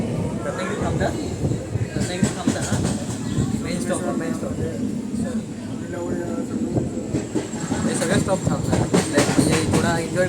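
A passenger train on the Konkan line near Nandgaon and Rajapur runs on its rails with a steady, loud clatter and rumble from inside the coach. People talk over the continuous rolling noise throughout.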